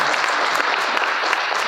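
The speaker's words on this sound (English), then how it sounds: "round of applause to Sandi Sijake and Jansen" Applause from a lecture audience for two speakers, a steady wash of many hands clapping throughout, close and even.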